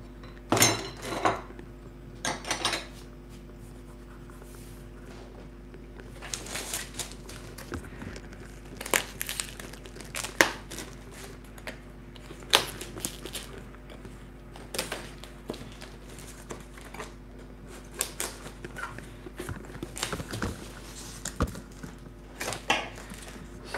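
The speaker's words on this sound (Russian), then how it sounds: "давайте светильник откроем" Packaging crinkles and rustles while a Turing RS90 marine aquarium light is unboxed, with scattered crackles, plastic rattles and light clinks over a low steady hum, close and fairly quiet, no speech.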